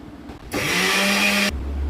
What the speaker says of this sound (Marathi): आता मी बाकीची डाळ वाटून घेते.